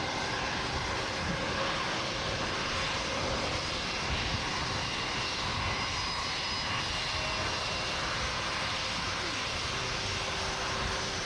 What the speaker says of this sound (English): And the sound you heard is the Star Alliance SAS.